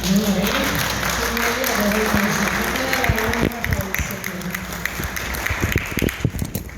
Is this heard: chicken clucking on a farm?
no